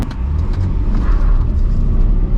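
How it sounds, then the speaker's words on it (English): A BMW 420i Gran Coupe pulls away hard with a loud, steady low engine roar, its rear wheels spinning briefly as it climbs into second gear, close and continuous throughout. "Bit of wheel spin from the rear wheels into second gear"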